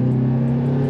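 A Tata Safari Phase 2 engine revs hard in second gear as a steady, loud low drone heard from inside the car, holding a constant pitch through a brief span.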